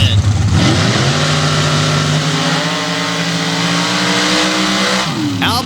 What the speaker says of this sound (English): Here we go, Ford and Chevy on the starting line for the final.